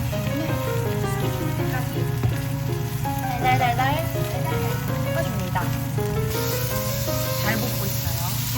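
Onions and green onions sizzle loudly while being stir-fried, a dense continuous crackle under people talking and laughing, with some utensil scraping.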